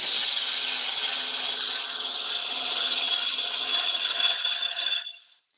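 Bowl gouge cutting yew wood on a lathe: one sustained, bright hissing scrape at steady loudness that trails off and stops near the end.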